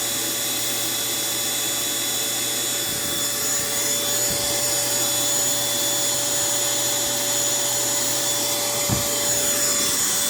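A vacuum cleaner runs on battery backup power, drawing about 270 watts, with a steady close motor whine and broadband suction rush held at constant loudness throughout, with a few faint knocks of debris.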